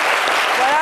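A brief burst of audience applause for a film director, a dense wash of clapping with a voice starting to speak over it near the end.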